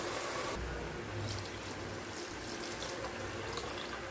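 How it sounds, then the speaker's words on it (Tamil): Water runs steadily from a tap or pours into a cooking pot while mutton biryani is made in a home kitchen, a continuous close splashing rush that starts abruptly with no talking. "அது தண்ணி ஊற்றிக்கலாம்."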